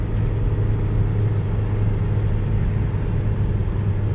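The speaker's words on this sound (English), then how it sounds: "now it's in the second gear and it's braking." Renault Espace IV engine braking in second gear with automatic transmission in manual mode, a steady low engine hum and road noise heard from inside the cabin, continuous and moderately loud without speech.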